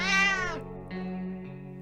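A cat in the survival game 60 Seconds lets out a loud, clear meow followed by two shorter, softer mews in quick succession, close and alone with no talking.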